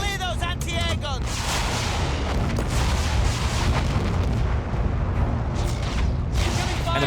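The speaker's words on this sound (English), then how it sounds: "Incoming fire." Incoming artillery fire in the World War I shooter Battlefield 1, a continuous loud barrage of heavy booms and blasts rumbling without pause, with brief whistling sounds near the start.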